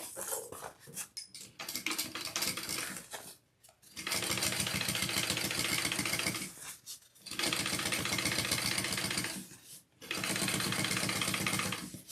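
A sewing machine top stitches a handbag in three long runs of rapid, steady, close-up clatter, separated by brief pauses and some handling noise at the start.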